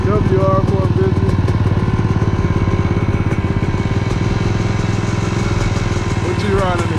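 A 250cc three-wheeler motorcycle engine runs with a steady, loud, pulsing rumble throughout, with voices talking over it.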